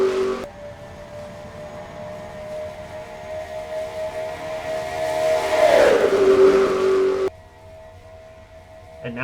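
Race cars in a stock car racing video game at the Pepsi 400 roar into turn one, a sustained engine drone whose pitch climbs then drops sharply as a car passes close, before cutting to quieter engine hum.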